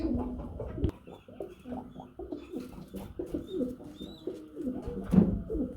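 Lahori pigeons cooing continuously, a close, layered chorus of low throaty coos from several birds at once, with faint higher bird calls in the background.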